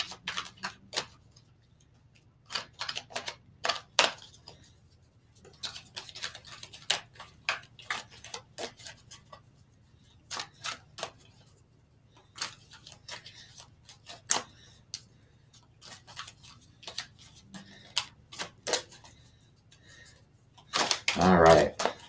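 A deck of oracle cards is shuffled in quick, crisp riffling bursts, close and fairly quiet, repeating in short clusters with pauses between and a faint low hum underneath.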